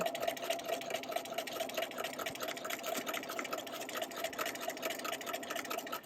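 Domestic sewing machine running steadily on a straight seam, a fast even mechanical whir with rhythmic needle clatter, fairly quiet and close, with no voices.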